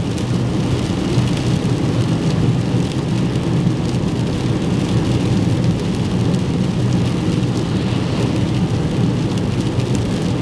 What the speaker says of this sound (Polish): Troszkę mniej pada niż poprzednio, ale dalej pogoda jest brzydka